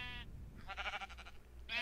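A sheep bleats in a game scene. Its wavering, nasal calls come in short bursts at the start and end, with a louder bleat in the middle, at moderate volume and with no talking.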